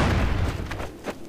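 A grenade blast in Counter-Strike on the de_dust map hits as a loud, close, broadband boom that rumbles and fades over about a second.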